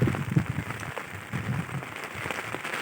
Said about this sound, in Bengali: দেখো আমাদের এদিকে প্রচুর বৃষ্টি হচ্ছে